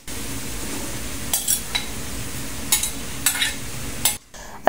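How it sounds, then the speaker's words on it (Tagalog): Squash and string beans with meat being stirred in a pan, giving a soft steady sizzle broken by several scraping clinks of a utensil against the pan, close and with no talk. "Tapos hahaluin lang din natin hanggang sa manuot or pumailalim yung gulay at saka maibabaw yung karne"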